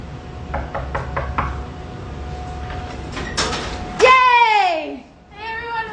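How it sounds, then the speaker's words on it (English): A hand raps five quick knocks on a door, close and crisp, followed moments later by excited high-pitched voices calling out. "Let's knock on the door."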